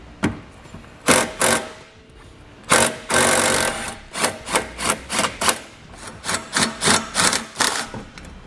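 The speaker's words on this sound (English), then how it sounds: "we're going to use a 17mm socket, and we're going to remove our tow hook" A 17mm socket wrench works loose the tow hook bolts on the passenger side of a 2017 Toyota Highlander, giving repeated short bursts of ratcheting and rubbing, close and fairly loud, with no talk.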